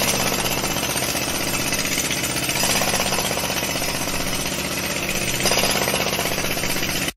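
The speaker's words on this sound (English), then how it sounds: "we're going to have to use the jackhammers, I'm sure they're stronger than sledgehammers" Steady, loud jackhammer pounding throughout, a dense continuous rattling hammer drone with a slight surge partway through.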